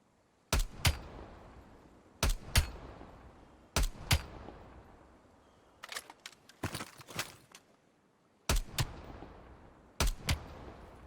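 Milano gun with range-increasing attachments fired in Call of Duty Black Ops Cold War: short bursts of sharp, loud shots in clusters of two to four, separated by brief quiet gaps, with no voices.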